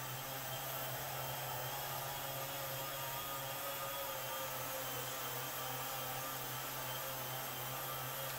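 A Shark Steam and Scrub all-in-one steam mop runs on a hard floor, giving a steady, continuous motor whir with a low tonal hum that holds throughout, with no talking.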